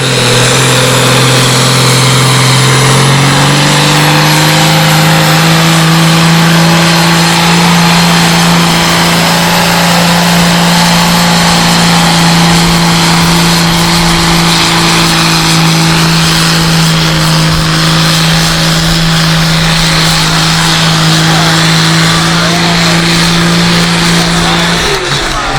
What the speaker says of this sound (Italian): giù la musica e ascoltiamo il rumore del suo forte